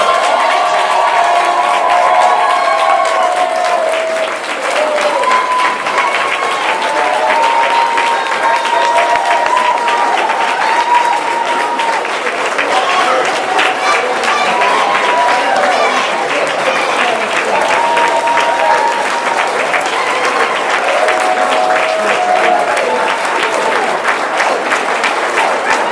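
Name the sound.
graduation audience applauding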